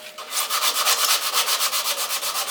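Wood being sanded on a woodturning lathe, a loud, close rhythmic rubbing and scraping that pulses about every fifth of a second as the spinning piece passes under the abrasive, with no voices.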